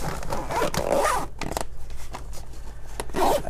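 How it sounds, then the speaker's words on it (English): Zipper bag being zipped shut, several quick rasping zip strokes close up, with some rustling handling in between and no talking. "we're just going to zip this on up"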